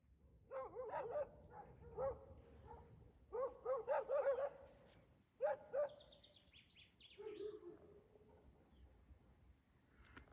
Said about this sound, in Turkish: Köpekler şurada arkadaşlar.